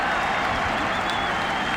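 Stadium crowd at a 2005 Vanderbilt vs. Tennessee college football game applauding and cheering after a made 29-yard field goal, a loud, steady wash of clapping and roaring that fills the whole moment.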